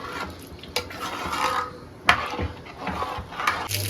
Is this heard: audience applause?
no